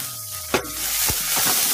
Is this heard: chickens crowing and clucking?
no